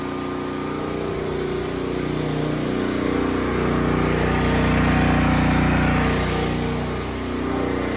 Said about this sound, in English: start the generator up